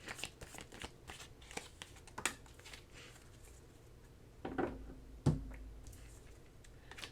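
Tarot cards being shuffled and drawn during a reading, a run of soft, quick papery riffles and flicks followed by a couple of sharper slaps as cards land, close and fairly quiet, no talk.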